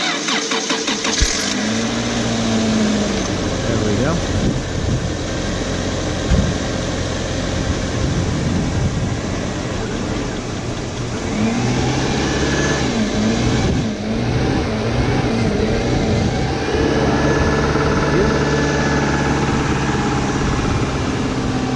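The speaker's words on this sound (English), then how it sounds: "watch as a 1997 Boxer engine turns over" A 1997 Subaru boxer engine cranks and catches, then idles and revs in a series of throttle blips, loud and close throughout, with a brief spoken remark near the start.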